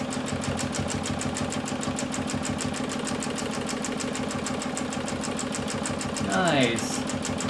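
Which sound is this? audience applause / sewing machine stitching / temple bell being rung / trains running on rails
sewing machine stitching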